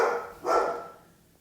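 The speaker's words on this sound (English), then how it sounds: "there's Ada barking" A pet dog named Ada gives a couple of close, clear barks guarding the house, the second bark trailing off into quiet.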